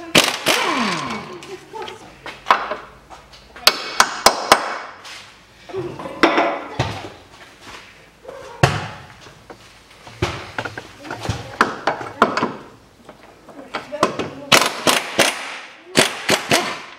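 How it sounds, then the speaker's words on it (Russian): Bolts being undone on the subframe of a 2012 SsangYong Actyon 2.0 4WD during a clutch replacement, giving sharp rapid bursts of impact-tool rattling and metallic clanks, loud and close, in repeated spurts separated by brief pauses. "Откручиваю подрамник."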